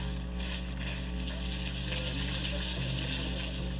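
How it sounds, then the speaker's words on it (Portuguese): Cold, clear spring water pours steadily from a spout fed by Lago Azul, set among Atlantic Forest greenery in Boca da Mata, Alagoas, a continuous close splashing rush over a low background hum. "Aqui embaixo tem uma bica maravilhosa, hein?"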